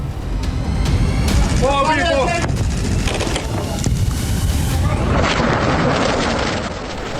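Explosions and booms from an Iranian missile attack on Israel over Tel Aviv, several heavy blasts and rumbling impacts with a brief siren-like wail, loud and chaotic with voices mixed in.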